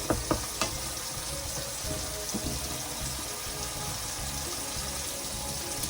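Water gushes steadily from a tap, a continuous splashing hiss after a few brief knocks at the start, close by.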